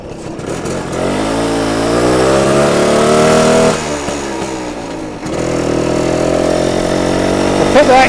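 BSA Bantam 175 motorcycle engine on a test ride with the choke off early, a close steady two-stroke drone rising and falling in pitch with throttle, dipping briefly midway before picking up again.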